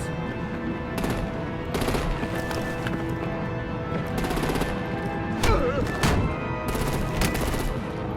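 Artillery gunfire in a Batman video game: rapid bursts of shots ring out over dense, continuous combat noise and rumble, loud and sustained, with sharp crack-like spikes standing out here and there.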